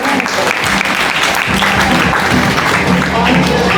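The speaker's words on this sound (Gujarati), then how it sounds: "એકવાર તાળીઓથી વધાવી દઈએ" An audience at a prize distribution ceremony claps loudly and continuously as office bearers are welcomed onto the stage, with a few voices mixed into the dense applause.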